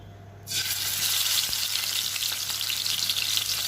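Fish pieces hit smoking-hot pure mustard oil in a pan, a sudden burst of loud, dense frying sizzle that starts abruptly after a quiet moment and keeps crackling steadily and close, with one brief knock.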